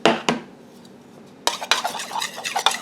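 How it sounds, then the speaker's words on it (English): Melted butter stirred into brown sugar in a mixing bowl, heard as a close, steady run of spoon scrapes and clinks against the bowl after a couple of opening knocks and a brief pause, with no speech. "We're going to stir the melted butter into the brown sugar."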